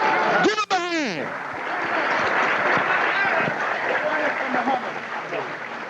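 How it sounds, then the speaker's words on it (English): A crowd at a religious fundraising gathering applauds steadily after an opening shout or whoop, clapping and cheering blending into a continuous wash for several seconds. "Let's give him a round of applause."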